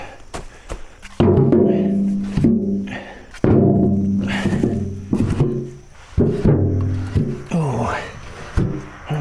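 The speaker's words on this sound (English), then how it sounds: "we're gonna start with the factory Kubota bucket. We're just gonna start putting rounds in it" Wood rounds tossed one after another into a factory Kubota tractor bucket, each landing as a loud, close hollow thunk with metallic ringing, in several separate drops spread over the span with short pauses between them.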